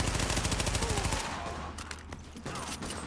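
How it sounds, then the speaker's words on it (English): Rapid gunfire in The Division video game, a dense rattling burst of automatic shots for about a second, then scattered distant-sounding shots and impacts under a steady game soundscape. "Oh, and I'm getting shot from behind."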